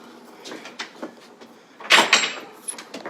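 Someone pushes an indoor door open, heard as a cluster of sharp clunks and rattles near the middle of a quiet room tone, with softer bumps before and after.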